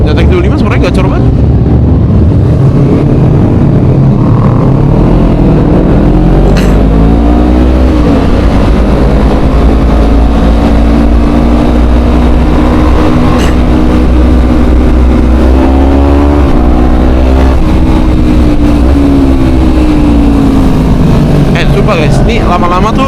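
Kawasaki ZX25 motorcycle engine revving loudly and continuously up close, a high screaming four-cylinder pitch rising and falling through several swells, with people talking over it.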